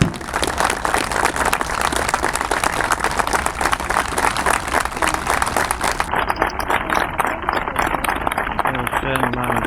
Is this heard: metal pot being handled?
no